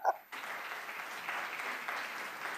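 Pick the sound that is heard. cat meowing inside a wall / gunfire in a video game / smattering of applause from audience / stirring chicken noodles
smattering of applause from audience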